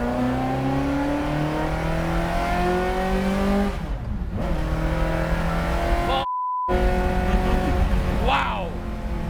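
A Ferrari F355 race car engine revs hard toward its 8,000 rpm redline, pitch sweeping up and falling back in repeated loud bursts, with a brief cutout midway and people talking over it.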